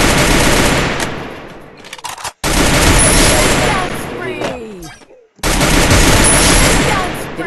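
Rapid bursts of gunfire in the battle game Free Fire, long loud automatic volleys broken by two short silences, with a voice briefly audible amid the shooting.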